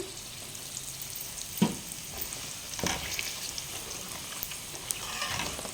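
Tempering spices fry in hot oil for tomato chutney with a steady, close sizzle and crackle, broken by a few sharp pops and stirring clicks; no one speaks.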